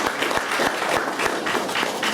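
An audience at a Vedanta Society youth convention applauds the speakers, a steady burst of many hands clapping close and loud with no pauses.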